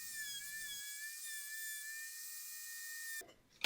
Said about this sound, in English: I'll switch over to a larger plunge bit to clean out the waste